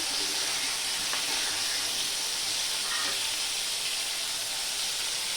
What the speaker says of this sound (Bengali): পটলটা ভেজে নিচ্ছি